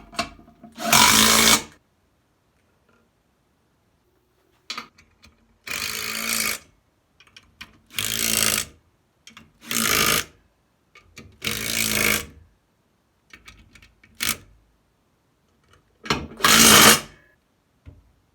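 A power tool tightening the clutch pressure plate bolts in bursts, about eight separate loud whirring runs of one to two seconds each, separated by near silence.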